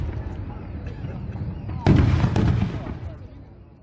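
Fireworks in a film scene burst out suddenly partway through as a loud crackling, popping barrage over a murky background, then fade back down.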